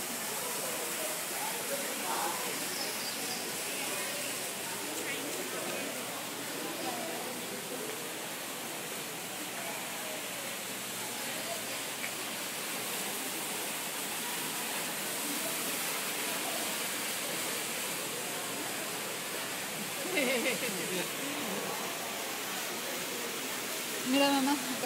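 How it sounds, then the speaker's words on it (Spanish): A small waterfall inside a butterfly conservatory makes a steady, even rushing hiss that runs the whole time, with faint voices and a few brief bumps in the background. "Aquí hay unas caídas de agua bien."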